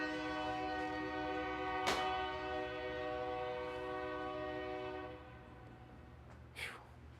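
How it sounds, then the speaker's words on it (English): A passing train sounds a long, loud horn at night with a steady multi-tone blare for about five seconds, then fades, with a low rumble of the train underneath and a brief squeal near the end. "there's a train going by"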